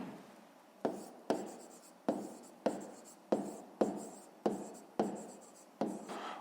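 Handwriting on paper, a pen or pencil making a steady series of nine or so sharp tapping strokes, each followed by a brief fading scratch, quiet and close with no talk.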